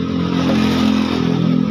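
A Honda CRF150 motorcycle engine idles steadily after being started, a loud, close, continuous low throbbing rumble with a mechanical clatter layered over it.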